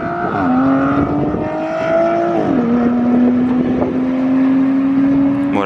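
A Bugatti Veyron Super Sport hypercar launching down an airport runway, engine roaring loudly with clear gear shifts as the pitch climbs, drops and climbs again, close and steady with no voices.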